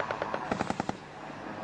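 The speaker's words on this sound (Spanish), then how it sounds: "Mira cómo disparaban a los aviones." Anti-aircraft guns fire rapid bursts at aircraft during the Falklands War, a quick string of sharp reports that sounds fairly distant and subdued.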